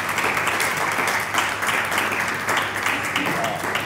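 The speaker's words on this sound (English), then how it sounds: "can I have another round of applause for your VP Sport candidates?" An audience at a student union sabbatical election debate applauds the VP Sport candidates: a sustained round of clapping, moderately loud and even, with faint voices mixed in.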